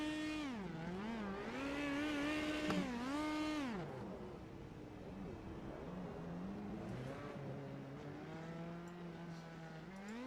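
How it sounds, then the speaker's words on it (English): An Indy Pro 2000 race car in iRacing does victory donuts: its engine note revs up and down in repeated swooping sweeps, loud at first and then easing to a lower, steadier drone. "he'll light them up, burn them down, and do the victory donuts here"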